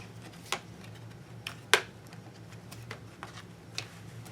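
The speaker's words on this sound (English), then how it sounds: "Just listen to these pages." Pages of a small handmade pocket book made from toilet paper rolls being flipped, several soft, sharp paper flicks spaced irregularly over a quiet, low background.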